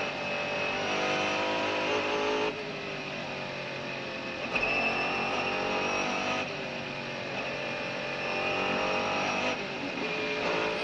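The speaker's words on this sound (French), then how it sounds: "Alors que Bouchu rentre dans la nouvelle portion du circuit." Race cars lapping a circuit, a Mercedes-Benz CLR chasing a Toyota, heard as sustained loud engine drones that shift pitch with gear changes and pass by in waves over the full stretch.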